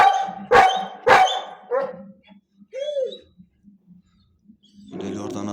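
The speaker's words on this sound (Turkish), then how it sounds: "Bak aşağı taraflarda komşularımızın çoban köpekler var. Onlar da havlıyorlar." Several sharp, loud shepherd dog barks close by, followed by quieter yips and a whimper, then a rough burst of barking at the end.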